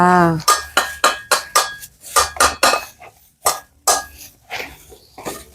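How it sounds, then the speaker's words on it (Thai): Cooked fish pounded in a mortar for a Lao-style yam salad, a steady series of about ten sharp, close thuds with a clinky edge, evenly paced, then a few looser knocks. "มันนี้เขาก็มาตำปลาเนาะ"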